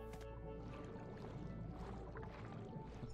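Swimming through water in the block-building game Boundless gives a faint, continuous splashing and sloshing, soft churning strokes under a low steady background, with no talk.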